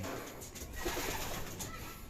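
Racing pigeons coo softly in their loft, a low murmuring of several birds heard fairly close and steady, with no talk over it.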